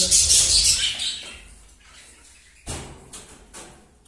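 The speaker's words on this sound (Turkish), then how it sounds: "ya bugün çok bağırıyor kuşlar." Budgerigars kept indoors during their moulting period give loud, shrill chattering calls, with a dense burst at first and then scattered sharp chirps nearby, with no talk over them.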